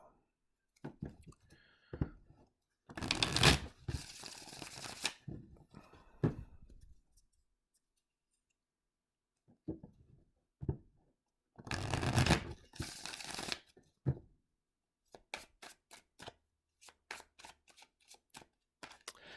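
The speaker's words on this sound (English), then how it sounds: "when I was doing the cut and the riffle there" A deck of tarot cards being riffle shuffled and cut, with two long loud bursts of riffling separated by quieter handling, then a run of sharp card taps and snaps near the end, close and clear without talk.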